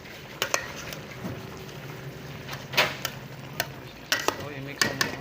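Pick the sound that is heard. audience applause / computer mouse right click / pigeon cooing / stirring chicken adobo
stirring chicken adobo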